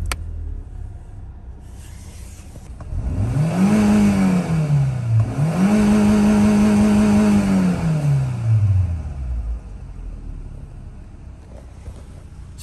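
Renault car engine with an injection fault, heard close as it revs up twice in rising and falling sweeps over a steady idle rumble, then settling back to a lower idle.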